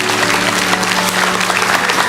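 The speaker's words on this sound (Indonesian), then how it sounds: "kasih tepuk tangan untuk Tuhan" Loud, close clapping from a church congregation giving applause to God during a sermon, a dense steady patter with a faint sustained tone underneath.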